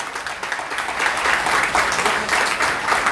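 Audience applause at a foundation-day ceremony of the Bharthwal family association in a Garhwal community hall, steady dense clapping that swells and holds for the whole stretch, with no talk over it.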